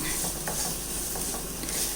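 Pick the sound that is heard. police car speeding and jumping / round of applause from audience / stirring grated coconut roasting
stirring grated coconut roasting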